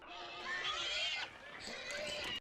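Pigs squeal and oink at a pig farm in a film scene, two fairly faint high-pitched squealing bursts, the second following a short dip.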